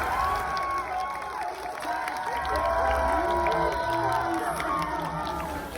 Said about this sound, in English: the fans would go crazy and clap.